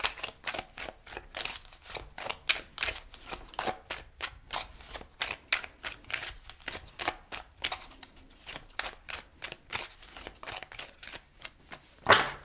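Tarot cards are shuffled by hand close up, a long run of quick crisp riffling bursts and slaps with short pauses between, quiet and without talk.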